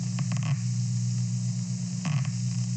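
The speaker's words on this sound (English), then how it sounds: "you hear the cells, this was from 1962, this was a stimulus that they gave to a cat, and they recorded from a single cell in the visual cortex" Old 1962 laboratory recording from a single neuron in a cat's visual cortex, a steady hiss and low hum with scattered faint crackling clicks, bursts clustering near the start and again about two seconds in.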